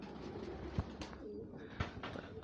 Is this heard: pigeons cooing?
yes